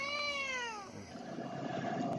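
A house cat lets out one clear, close meow that bends downward and fades within a second, followed by a steady low rumbling background noise with no voices.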